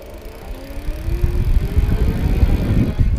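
A Magnum Metro electric bike motor climbs a hill, its thin electric whine rising steadily in pitch over a rumbling, rattling wash of tyre and road noise, close and continuous.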